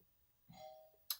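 A home doorbell rings once as a faint, brief electronic chime, a single sustained tone that fades and is followed by a short click, heard distantly in a quiet room.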